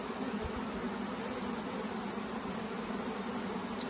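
A honeybee swarm buzzes loudly in summer sunshine, a dense, steady drone of countless wings that fills the whole stretch without a break.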